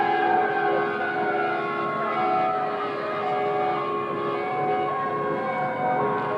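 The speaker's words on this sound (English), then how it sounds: "As the sirens roar on this beautiful Saturday afternoon." Sirens wail steadily through a 1988 Christmas parade in Berkley on a Saturday afternoon, several tones layered and sustained, loud and continuous throughout with no voices over them.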